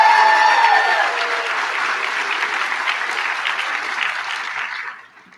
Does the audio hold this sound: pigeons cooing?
no